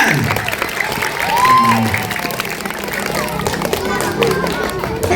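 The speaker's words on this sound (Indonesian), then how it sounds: "Tepuk tangan buat Davian." An audience applauds a sixth-grade student at a school program, broad clapping and crowd noise with some voices mixed in, sustained and moderately loud throughout.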